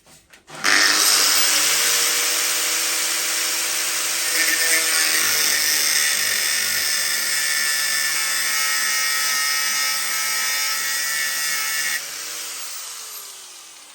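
An angle grinder with a cutting disc cuts through a bolt clamped in a vise, a loud continuous high-pitched whine and grinding screech that starts abruptly, holds steady, then drops in pitch as the cut finishes.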